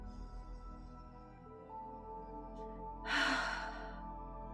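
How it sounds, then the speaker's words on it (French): A single deep breath drawn in through the nose during a beginner vinyasa yoga session, a faint rushing inhale rising near the end of a quiet stretch, heard alone without talk. "Inspirez par le nez."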